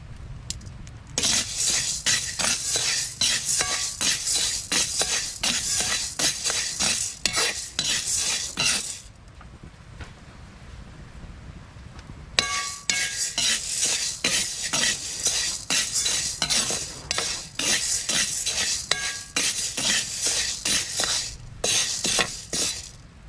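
Mung beans toasting in a pan are stirred continuously, a scraping, rattling clatter of utensil against pan with a faint sizzle, pausing briefly midway before resuming steadily and close.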